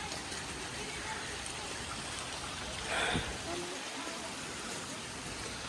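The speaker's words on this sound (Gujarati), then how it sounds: "વરસાદ બંધ થવાનું નામ લેતો નથી" Steady monsoon rain hisses throughout on the steps of Girnar, Junagadh, an even wash of falling water that swells briefly louder midway before settling back.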